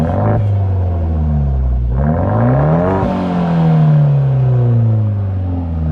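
A car fitted with an aftermarket exhaust rumbles close by, then is revved, its engine note rising, falling back and climbing again in a loud, deep drone with no talking.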